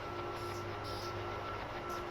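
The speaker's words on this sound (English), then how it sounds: "And there's another train coming in." A passenger train arriving at a station in a Northeast Corridor train simulator game: a steady, fairly faint rumble with a constant hum and tonal whine, without talk.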